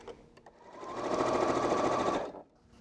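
A sewing machine stitches Christmas tree quilt block strips together, one steady close run of rapid whirring stitches lasting about a second and a half, rising in and cutting off cleanly, with no talk.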